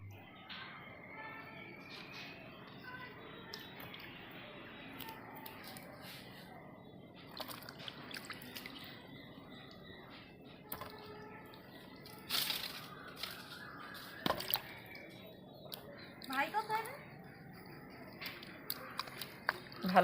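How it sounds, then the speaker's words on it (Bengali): A raw green mango is washed by hand in water, with soft, scattered splashes and dribbles that grow into sharper sloshes later on, all fairly quiet and close. "ভালো করে আমটা ধুয়ে নিচ্ছি।"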